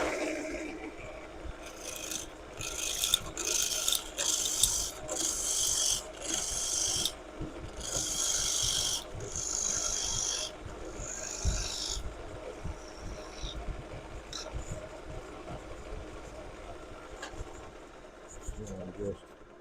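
A bolt of wood spins on a lathe while a turning tool cuts it, giving bursts of rasping, scraping noise that come and go. The cutting grows sparser and quieter toward the end.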